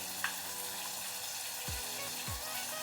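Radhuni and green chilli paste frying in hot tempering oil, a steady close sizzle with a couple of brief low thumps of stirring or a utensil touching the pan.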